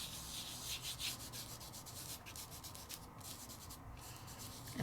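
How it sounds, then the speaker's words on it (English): A fingertip rubs glitter into the small nooks and crannies of a craft project, giving a soft, steady scratchy rubbing that is faint and close, with no talking. "I'm not rubbing hard. I'm just moving the glitter."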